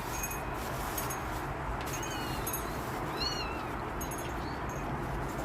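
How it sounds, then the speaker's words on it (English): Faint, high kitten mews come and go over a steady low rumble of background noise, a few thin cries spread across the stretch. "If y'all hear meowing, it's the babies."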